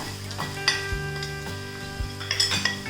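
Spice powders (turmeric, Kashmiri chilli, coriander, garam masala) being stirred in a hot pan for mushroom roast, with a soft sizzle under scraping and clinking strokes of a spoon against the pan at a steady, close rhythm.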